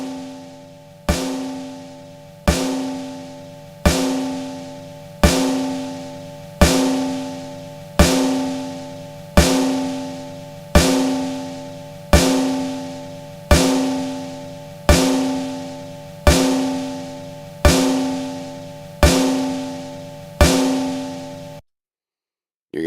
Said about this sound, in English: What is this snare going to sound like?